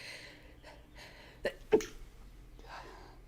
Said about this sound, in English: I have a sneeze coming, one sec.